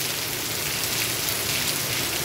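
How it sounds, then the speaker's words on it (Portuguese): Heavy rain pours steadily at night in Santana do Ipanema, a dense, even hiss of drops striking surfaces with no break, close and loud, and no voices. "Chuva forte mesmo, às 2 da manhã."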